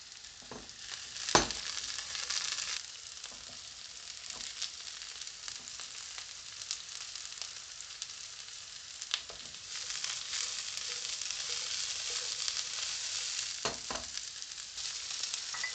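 Broccoli and carrot slices sautéing in sunflower oil for a homemade vegetable noodle stir-fry, a continuous moderate sizzle with occasional sharp clicks and stirring knocks, no voices.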